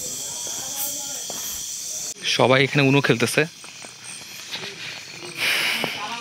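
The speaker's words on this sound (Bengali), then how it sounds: "তো এই দেখাতে চাচ্ছি যে এত সুন্দর ঝিঝি পোকার ডাক" Crickets and other night insects drone as a steady, fairly loud high hiss at a hill station in Mirinja Valley, Lama, continuing beneath a brief burst of nearby conversation.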